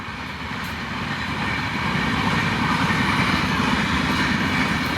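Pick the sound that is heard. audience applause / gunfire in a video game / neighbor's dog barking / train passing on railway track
train passing on railway track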